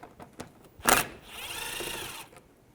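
A power tool drives a 7mm socket to remove screws under a 2010-2017 Chevrolet Equinox. After a few light clicks there is a sharp clack, then a brief whirring spin of about a second at moderate volume.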